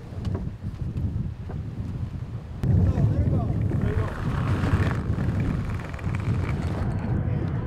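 Sailboat crossing San Francisco Bay from Richmond toward San Mateo, with steady loud wind buffeting the microphone and continuous rushing water and hull noise throughout, swelling stronger midway.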